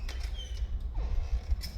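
A wooden door in a house swings open with a brief, faint creak, a short rising squeak standing over a low steady room rumble with a few soft knocks and no voices.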